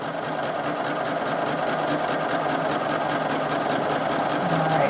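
A sewing machine runs steadily throughout while stitching free-motion quilting loops across a grid-design quilt block, a continuous close, even mechanical hum with a fine rapid needle rhythm and no pauses.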